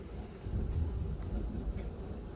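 Deep thunder rumbles through a storm, a low rolling boom sustained for a couple of seconds, heard from indoors with faint rain in the background.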